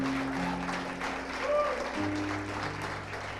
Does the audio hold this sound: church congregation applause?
yes